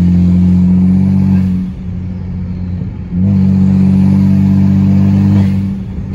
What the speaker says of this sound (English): So it sounds really gnarly, especially with the open downpipes. You can hear the turbos.